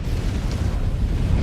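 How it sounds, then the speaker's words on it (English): A mech's reactor breach explodes in the video game Mechwarrior 5: Clans, producing a dense, booming rumble that lasts the whole moment without any clear break. "Reactor breach. Explosion imminent."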